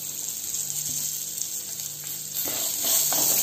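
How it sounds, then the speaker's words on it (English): Groundnuts fry in hot oil as chopped onions go into the pan, a soft sizzle that swells louder near the end as the onions hit the oil, with faint stirring and no speech. "Nicely fried, I'm gonna add the chopped onions."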